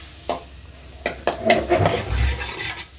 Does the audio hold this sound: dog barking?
no